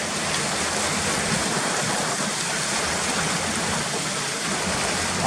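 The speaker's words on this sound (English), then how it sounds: "this is where the channel of water's coming down, look." Water rushes steadily through a channel running down from the hills and passing underneath a road, a continuous close, broadband roar like a small stream or waterfall with no breaks or voices.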